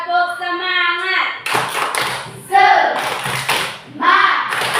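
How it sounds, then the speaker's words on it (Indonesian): A group does a rhythmic chant-and-clap cheer, with sharp bursts of hand claps following a sung vocal line and voices chanting along between the claps. "Tepuk semangat."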